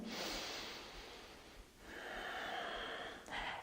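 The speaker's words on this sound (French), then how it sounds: "Connecte à ta respiration." Slow, deep breathing during a low lunge yoga pose, a long close exhale fading out, then a fresh inhale building again, soft and audible with no talk.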